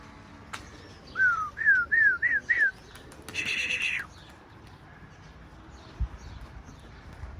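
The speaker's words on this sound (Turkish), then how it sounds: "Çok fazla karga, kırlangıç falan var." Crows and swallows calling outdoors in rainy weather: a quick run of five sharp chirps, then one longer call, fairly faint over a quiet background.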